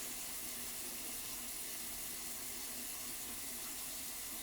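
Tap water runs steadily into a sink during face washing, a constant close hiss and splash with no pauses and no talking.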